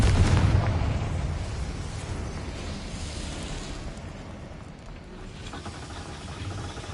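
A Confringo fire spell goes off in the video game Hogwarts Legacy: a loud blast opens at the start, then a rumbling roar slowly fades over several seconds.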